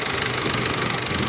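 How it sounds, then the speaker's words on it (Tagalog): A running engine with a rapid, steady ticking rattle from the timing chain over its idle hum, heard up close. "makita natin yung tunog ng kanyang timing chain"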